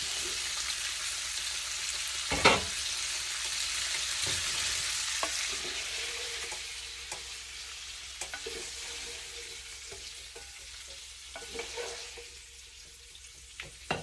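Browned kielbasa sausage hits a pot and sizzles steadily, with occasional scraping and clattering stir sounds over a constant frying hiss, close and moderately loud.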